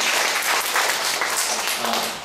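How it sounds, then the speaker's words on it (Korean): Church audience applauding students back from the college entrance exam, a loud, dense burst of clapping that continues steadily for over two seconds, close and without speech. "수고했다고 박수를 격려를 해주세요"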